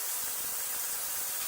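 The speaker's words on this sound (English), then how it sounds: "while my ultrasonic cleaner is doing its thing" An ultrasonic cleaner runs on a cluttered workbench while a model engine carburetor is being cleaned, giving a steady, even hiss that stays constant and moderately faint throughout.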